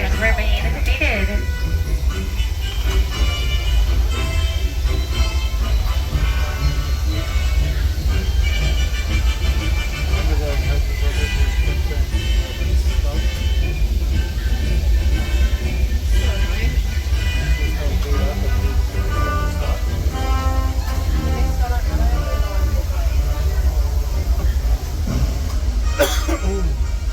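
The Disneyland Railroad train rolls along with a low steady rumble and faint track clatter, while an announcer speaks over it almost throughout.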